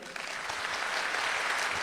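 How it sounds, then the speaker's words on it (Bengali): Audience applause fills a hall, a dense, steady clapping from a crowd that holds at an even loudness throughout with no break or voices. "তার জন্য একটা জোরালো হাততালি।"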